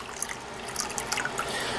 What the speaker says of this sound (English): Okay, so we have an empty tank, and we're just going to put some water in it. Regular old plain water.